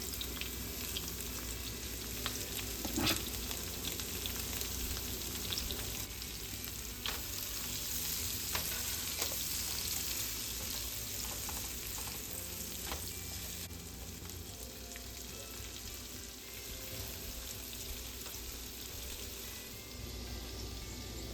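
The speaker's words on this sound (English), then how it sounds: "while the onions and peppers are sauteing, getting softened up over here on the stove" Onions and bell peppers sautéing on a stove, seasoned with salt and black pepper, give a dense, continuous close sizzle with occasional crackles and faint stirring scrapes, no voices over it.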